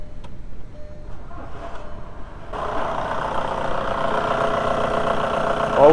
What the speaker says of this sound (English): you can start the car or start the engine